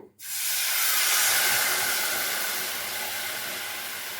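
A sudden loud hiss bursts out and holds steady as water is poured into a hot pan of roasted cashews while making puffed-rice halwa, slowly easing off over a few seconds.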